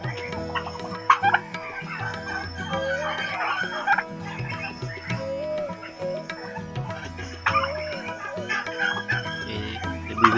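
Five-month-old turkeys of mixed colours call in a farm enclosure, a busy flock of clucking and gobbling notes overlapping in irregular bursts at moderate distance, with no talking.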